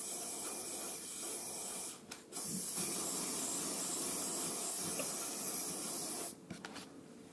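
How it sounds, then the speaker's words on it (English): Branox rust coating sprayed from an aerosol can onto car jack points, long steady hissing bursts close up with short pauses between, no voices. "spray on Branox at a distance of 25 centimeters, 3 to 4 coats"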